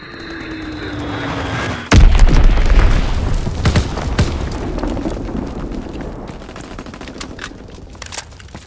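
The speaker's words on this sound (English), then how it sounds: "Dropping Azon bomb." A sudden heavy blast sets off a dense run of booms and rattling gunfire as Azon bombs hit in a World War 2 capture-the-flag shooter, loud and close, then tapering into scattered shots and rumbling.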